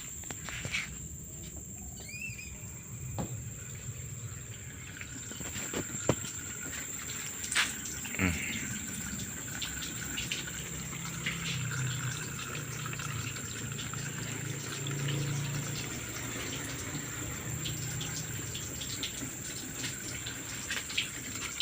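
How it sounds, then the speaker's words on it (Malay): Water from a hose pipe runs onto the rear bonnet of a car to check for rainwater leaks, a continuous splashing wash of moderate level with a few sharp knocks, heard alone without talk. "Kita gunakan air pipe."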